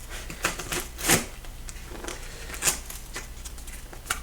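Scissors or a blade cutting through logo-printed packing tape on a package, several short, soft snips and scrapes heard up close and quiet, with no talking over them.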